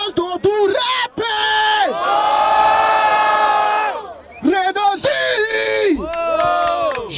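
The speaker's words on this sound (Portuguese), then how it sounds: "escolhe um e grita com muita força" A crowd at a Brazilian battle rap event in Barueri, São Paulo, shouts and cheers in loud, sustained bursts of yelling and whooping, rising and falling in waves.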